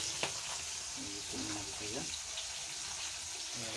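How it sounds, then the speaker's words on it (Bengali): Potatoes and pointed gourd fry in a pan of oil in a home Bengali kitchen, giving a continuous close-up sizzle with small crackles and stirring clatter, while someone talks over it. "আলু আর পটলটাকে ভেজে নিচ্ছি"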